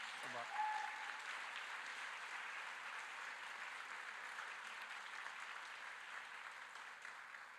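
Sustained applause from an audience at a live arangetram, an Indian classical dance debut, a dense wash of clapping that holds steady and slowly fades, with a brief voice at the start.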